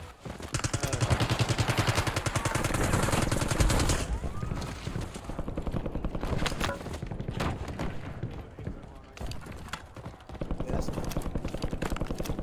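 Dense automatic gunfire crackles through a shooter video game match, rapid bursts of machine-gun fire sounding near and far, along with short pauses and background game effects.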